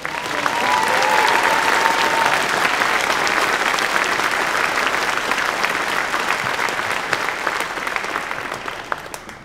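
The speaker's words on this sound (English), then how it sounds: "So can we give a round of applause?" A law school commencement audience breaks into sustained applause, a dense wash of clapping that swells quickly, holds for several seconds and slowly tapers, heard without any talk.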